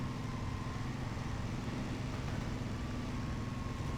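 A heavy truck grinds through a forest in Spin Tires, mowing down trees with a steady, dense engine rumble and broadband noise that stays constant and fairly loud throughout, with no voices over it.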